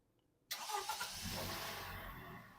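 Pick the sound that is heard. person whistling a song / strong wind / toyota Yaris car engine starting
toyota Yaris car engine starting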